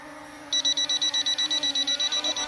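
Rapid, steady electronic beeping from a cheap toy drone's obstacle-avoidance warning, about a dozen short high-pitched pulses in a regular rhythm, fairly loud over a low background hum.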